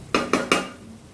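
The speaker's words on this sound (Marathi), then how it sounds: "आता आपल्याला हे सर्व परतून घ्यायचं आहे।" Three quick metallic taps of a spoon against a pan ring out close and clear while spices and masala are sautéed for tomato rice, then fade into quiet.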